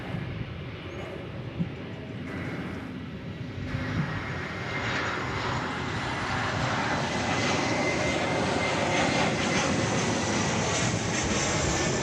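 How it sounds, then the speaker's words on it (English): An Airbus A321 jet airliner taking off at DFW Airport, a loud, continuous engine roar that swells and holds steady throughout, heard from a distance with no voices over it. "American Flight 1055, Airbus A321."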